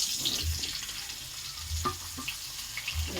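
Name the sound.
brinjal and potato frying in oil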